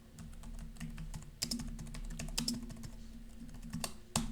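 Fingers type code on a computer keyboard while writing a first Pascal program. A steady run of soft, close key clicks goes on without pause, with a few sharper, louder strikes among them and no voice.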